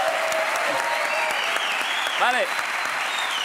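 Studio audience applause fills a late-night television comedy show set, a dense steady clatter of clapping sustained throughout, with a voice briefly speaking over it.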